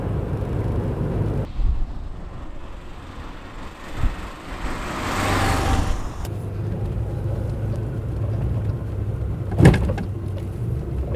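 A Porsche 924 engine runs rough with one cylinder dead, giving a steady, close, loud idle with an uneven lumpy drone, a brief swell partway through and a sharp knock near the end.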